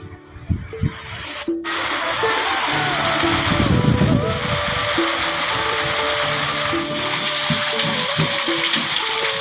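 Water pouring from a household tap, a loud continuous rushing hiss lasting several seconds after a brief clatter at the start, with faint background tones.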